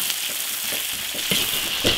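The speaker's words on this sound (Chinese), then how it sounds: "生姜、洋葱、小葱、花椒、辣椒、香料，炒香。" Ginger, onion, scallion, Sichuan pepper, chili and spices stir-fried in an iron wok, giving a steady close sizzle with soft scraping stirs about every half second.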